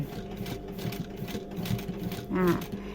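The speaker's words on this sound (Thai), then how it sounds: "เย็บได้เลย เย็บทับรอยเย็บเดิม" A sewing machine runs steadily, stitching over an existing seam on jeans, its close rapid mechanical whir continuous throughout, with a brief louder tone near the end.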